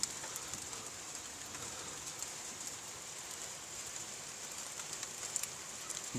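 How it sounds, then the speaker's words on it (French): Heavy rain pours steadily during a violent summer thunderstorm in Carpentras, a dense continuous hiss of drops on surfaces, fairly close and even throughout, with no voices and no distinct thunder clap. "Ah, la pluie se renforce."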